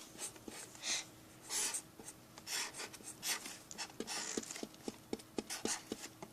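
A pen or pencil scratches a quick sketch of a drunk cactus on paper, with bursts of brisk rubbing strokes and short taps, close and fairly quiet.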